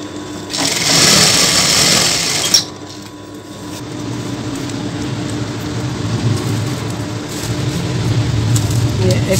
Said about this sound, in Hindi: इसको पूरी सिलाई मार देंगे।